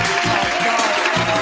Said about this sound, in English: You're already booing and they haven't said a word.